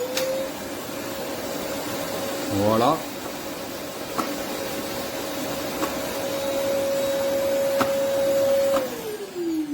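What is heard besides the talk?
bagless vacuum cleaner running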